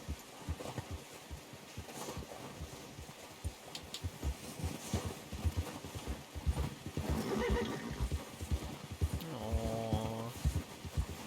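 A horse in Red Dead Redemption 2 walks with steady clip-clop hooves and snorts, then gives a loud, quavering whinny near the end, close and without speech.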